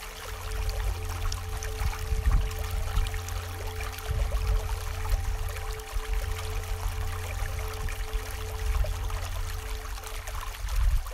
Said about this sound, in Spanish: Un sonoro rumor de agua surge de la ribera de las Navas.